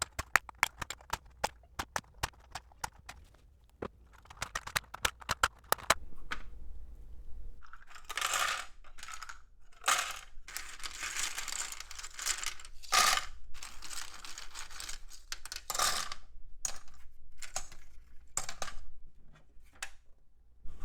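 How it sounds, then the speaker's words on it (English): Keycaps snap and click off an Acer Aspire 575LB laptop keyboard in sharp, rapid bursts, then a denser run of plastic rattling and clattering as loose keys are handled, close and alone without talk. "let's get the rest of these keys out of here."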